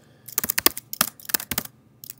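Close-up clatter of keys being typed on a computer keyboard in quick irregular bursts, with short pauses between clusters of keystrokes.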